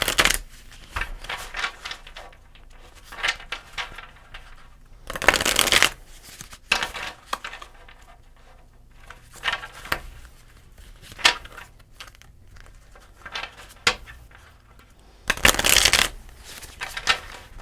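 Astrology tarot cards being shuffled by hand, several quick riffling bursts of crisp card flutter separated by quieter handling, close and fairly soft with no talking.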